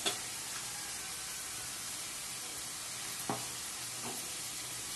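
Tomatoes dropped into a hot pan for upma set off a soft, steady sizzle. A couple of faint clinks of stirring come over the frying hiss, with no talking.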